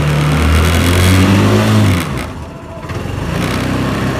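Honda Activa 125 scooter revving on its stand, the engine drone climbing loudly then dropping back to a lower idle before building again, close and steady with no talk.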